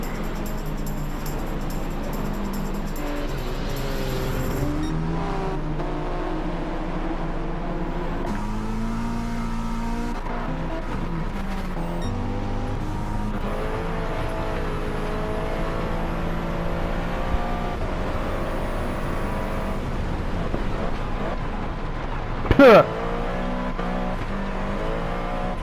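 Several muscle cars in a racing video game roar continuously, with engines revving and shifting pitch as they accelerate close by, and one brief sharp burst of higher noise stands out near the end.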